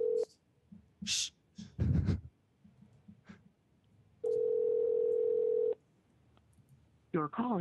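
Telephone line tone during a call: one steady, unbroken tone of about a second and a half, with short bursts of speech and breathy noises before it and brief talk after.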